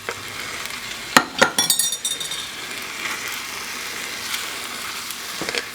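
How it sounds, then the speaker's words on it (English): Chicken stir-fries in gochujang sauce, a close, steady sizzle broken by a few loud utensil scrapes and clinks against the pan, then settling back into frying with no speech. "So continue to move your stuff around and stir fry."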